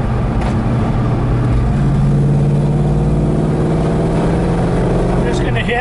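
A 1967 Plymouth Barracuda engine drones and revs through gear changes on a test drive, loud and steady with rising pitch, while someone talks over it.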